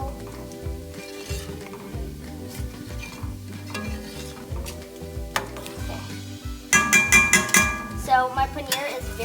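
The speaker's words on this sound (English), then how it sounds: "I'm gonna give it a good stir" Paneer tikka masala gravy stirred in sizzling oil in a pan, with a steady fry hiss, spoon scraping and clinks against the pot, growing louder and more clattery toward the end.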